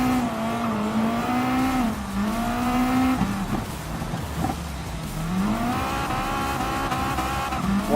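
A WRX Gr.B rally car races in Gran Turismo Sport, its engine droning loud and steady throughout, the pitch rising and dipping through gear changes and braking, with scraping tyre noise over a brief lull mid-run.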